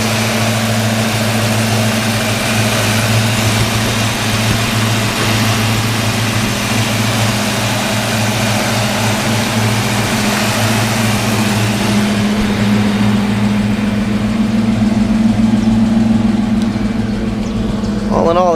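A 1995 Ford SVT Mustang Cobra with long tube headers and a JLT intake idles nearby, a loud steady low rumble with a constant throb that holds throughout.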